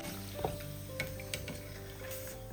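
Poori made with sago being turned while it fries in hot oil, a faint, low sizzle with a few soft clicks and clinks of a utensil against the pan.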